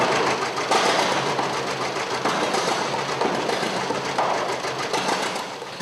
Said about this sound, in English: They bark and bellow, the steering wheel shakes, and fire shoots out of the exhaust.